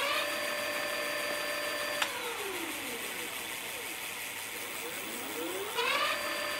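ADO A20 electric bike hub motor running under throttle, a faint steady electric whine that drops away after two seconds and then rises again near the end.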